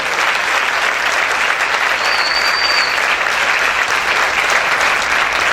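Steady, dense applause from a church congregation, loud and sustained throughout with no gaps, a single faint whistle-like tone rising briefly above the clapping midway.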